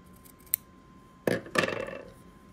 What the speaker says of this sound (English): I'm gonna trim that with a pair of scissors.